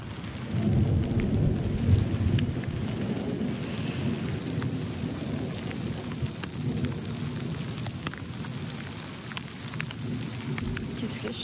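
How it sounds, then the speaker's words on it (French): Steady heavy rain pours throughout, with low rumbling thunder rolling beneath it, loud and continuous with no pauses, heard outdoors in the Dolomite mountains. "Thunderstorm. Amazing."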